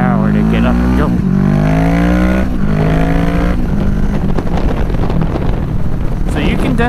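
A 2020 Kawasaki Z650 motorcycle accelerates hard, its engine note climbing through rising revs and several gear shifts, loud and close under heavy wind noise.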